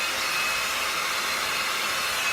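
A hair dryer blows steadily on a synthetic lace front wig, a close, constant airy whoosh with a faint high whine, running unbroken with no talking.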